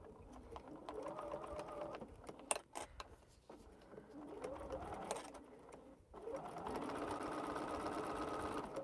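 Sewing machine stitching a quilt runs steadily in close, loud bursts with brief pauses between runs, while a faint background bird coos now and then.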